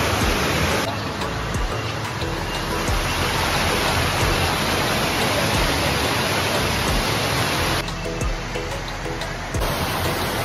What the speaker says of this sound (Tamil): சிறிமனை ஃபால்ஸ்